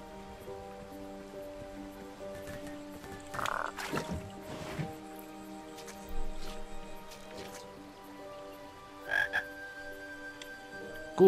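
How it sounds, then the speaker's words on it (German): Frogs croak in the King's Quest V adventure game, several distinct croaks spaced irregularly over a soft ambient game background with faint drip-like sounds, no talking. "Wir sind bei den Fröschen."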